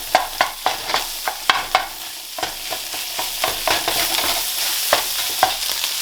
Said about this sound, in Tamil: இப்போ நல்லா ஸ்க்ராம்பிள் பண்ணி விடுங்க இந்த முட்டையை